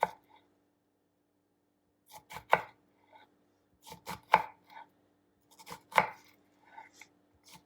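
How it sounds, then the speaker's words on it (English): A knife makes thin, evenly spaced cuts through an onion on a cutting board, giving sharp close taps in small irregular clusters separated by near silence. "I'm making thin cuts that are evenly spaced apart and they don't go all the way through the onion."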